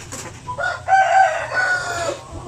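A Basilan native rooster crows up close and loud, one full cock-a-doodle-doo call lasting about two seconds, with faint farmyard background.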